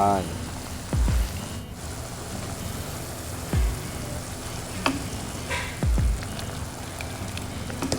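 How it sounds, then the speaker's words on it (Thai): Red ant eggs go into a pot of cooking sweet leaf curry with straw mushrooms, a steady bubbling simmer broken by a few soft thuds and stirring knocks close by. "ใส่ไข่มดแดงลงไป"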